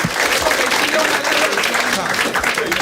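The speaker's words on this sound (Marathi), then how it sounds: "चला दोघांसाठी टाळ्या वाजवा." Audience at a Marathi stand-up comedy show applauding, dense and loud clapping that fills the whole short stretch, mixed with some crowd voices.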